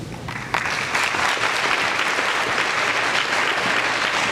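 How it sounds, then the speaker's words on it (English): A crowd claps at a military signing day ceremony: applause starts abruptly after a brief lead-in and holds as a dense, even wash of clapping to the end. "we thank you and we applaud you on this day"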